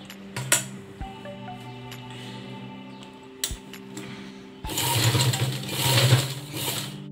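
Close by, a domestic sewing machine stitches a baby dress in short bursts, its quick mechanical rattle surging twice toward the end between quieter handling clicks and faint hum.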